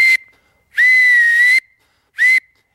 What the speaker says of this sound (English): you blow the air straight down this gap between your fingers to get the whistle to work